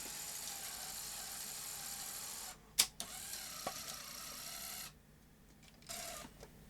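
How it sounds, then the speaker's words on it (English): A Sony SuperBeta SL-HF900 VCR ejects a tape: a quiet steady mechanism whirr, then a couple of sharp clicks and clunks from the loading gear, the motor sound stopping and restarting briefly. "eject the tape."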